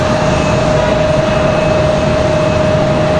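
An Air France airliner moving on the ground at Raleigh-Durham airport, with a loud, steady jet engine roar and a sustained whining tone heard from fairly close by.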